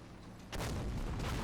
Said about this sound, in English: Another gratuitous explosion over at the ford